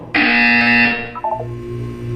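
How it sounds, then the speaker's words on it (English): Loud electronic buzzer in the video game Portal 2, a harsh sustained alarm tone lasting about a second, followed by a brief descending chime and a low hum. "When you hear the buzzer, look down at the floor."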